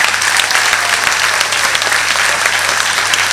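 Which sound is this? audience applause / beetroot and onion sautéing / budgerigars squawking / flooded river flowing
audience applause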